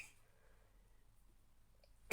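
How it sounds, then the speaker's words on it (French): A single sudden sneeze bursts out loud and close at the end, after a near-silent stretch of soft room sound in an indoor craft setting. "je vais éternuer, je crois."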